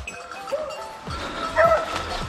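A hunting dog barks and yips during a wild boar hunt in the woods, with a few sharp, excited calls spread across a couple of seconds. The dog sounds moderately close, and faint voices can be heard in the background.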